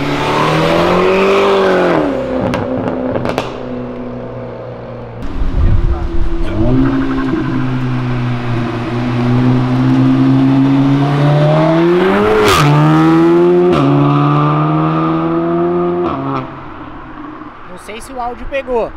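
Cars downshift on a city avenue, engines rising and falling through several rev swells with a turbo flutter, heard from some distance, while people chatter excitedly nearby.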